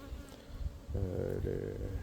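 A faint buzz of honeybees near at hand at a hive during a sunflower honey harvest, with a louder, harmonic-rich drone swelling in partway through and holding steady.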